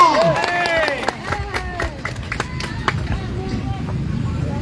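A crowd applauds at an outdoor rally of persons with disabilities in Davao. Moderate clapping runs under an amplified voice speaking.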